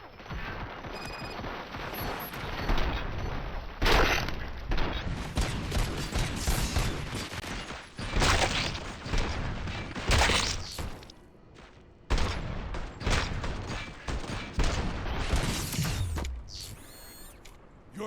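Rapid bursts of automatic gunfire ring out in the Robocop: Rogue City video game, loud and close. Crackling volleys are broken by brief pauses, with mechanical clanks and ratcheting sounds between them.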